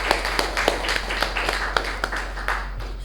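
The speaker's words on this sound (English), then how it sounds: "let's give a round of applause" A handful of people at a club meeting clap in sparse, distinct strokes, each clap standing out separately over a low electrical hum. The sound is fairly quiet and settles into a loose, uneven rhythm.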